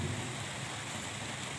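Steady rain falling during an outdoor religious gathering, a continuous even hiss filling the background without any talk over it.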